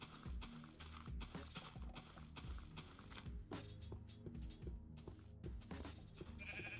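Sheep in the Minecraft video game bleat repeatedly, several overlapping calls at a steady pace over game background sound, with no talking.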